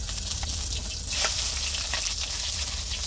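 Onion and garlic sizzling in a hot pan, a loud continuous frying hiss with a few brief stirring scrapes, close up and with no talk.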